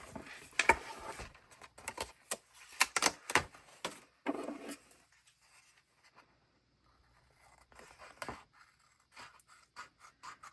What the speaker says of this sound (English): then that long straight line with my scissors